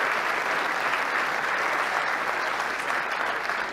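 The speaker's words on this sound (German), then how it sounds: "Einmal Applaus in Köln als Special Guest" Steady, dense applause from a live comedy show audience in Cologne, sustained and loud throughout with no pauses, filling the room without any talking over it.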